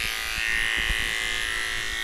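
A blow dryer runs steadily while drying a heavily matted rescue dog during grooming, making a loud continuous whooshing drone that stays even throughout.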